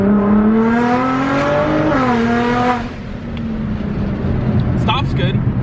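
A lowered stance car pulls away in a gentle acceleration, the engine note climbing in clear harmonic sweeps for about three seconds before easing off into a steady cruise drone, with someone talking over it.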